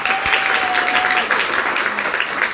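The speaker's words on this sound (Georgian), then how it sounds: "არ იმსახურებს აპლოდისმენტებს" Audience applause at a stage event, loud and sustained clapping from a large crowd, even and continuous throughout, with a brief tonal whistle early on.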